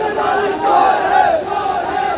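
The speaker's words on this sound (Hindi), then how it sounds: "जगह जगह पे काफ़ी रश है, भीड़ है।" A large protest crowd at Jantar Mantar in Delhi chants in unison, a loud, sustained roar of many voices rising and falling together at close range.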